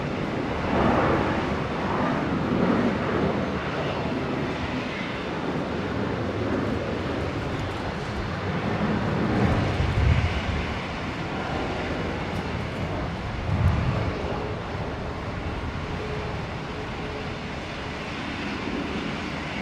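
A Velocity airliner rolls for takeoff on runway 19 at Brisbane airport, a broad, steady jet engine roar heard from a distance with gusts of wind buffeting the microphone throughout.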